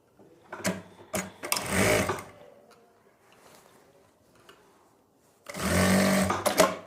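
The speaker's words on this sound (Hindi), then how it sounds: "अब यहां पर हम एक सिलाई लगा लेंगे।" A sewing machine stitches a seam joining a pocket to the front panel of a garment, running in short bursts at first, going quiet, then running steadily again near the end, close and clear with no talking.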